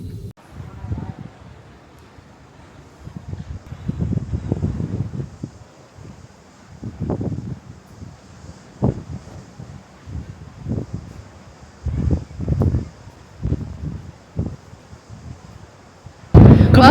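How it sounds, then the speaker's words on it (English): Strong gusts buffet the microphone at a windy cruise pier in Nassau, producing low thumping bursts and rumbles that come and go, with voices speaking between and over the gusts. "hope you can hear us because the wind is blowing like crazy"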